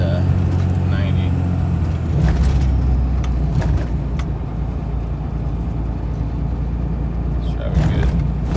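A car with a transmission issue drives and shifts gears, its engine rumbling loud and continuous inside the cabin, with a few faint clicks and rattles over it.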